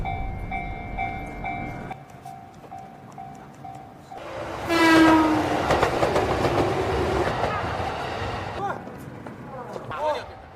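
A train in the anime Death Note rumbles past with a loud horn blast and rising clatter, voices and tones audible before it arrives.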